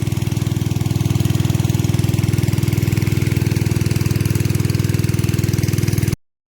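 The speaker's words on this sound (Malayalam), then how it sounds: "മോട്ടോർ പമ്പ് ഉപയോഗിച്ച് കുറേ വെള്ളം നമ്മൾ വറ്റിച്ചു" A motor pump engine drains water from a pond beside a paddy field in Kerala, running with a loud, steady, close-up drone that throbs evenly throughout before cutting off abruptly at the end.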